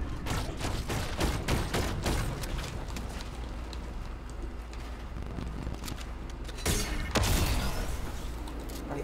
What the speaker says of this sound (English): I'm getting shot now